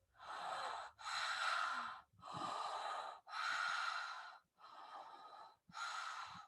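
Deep breathwork breaths drawn and released through the mouth, six long, loud, close airy rushes in an even rhythm separated by short pauses, with no speech.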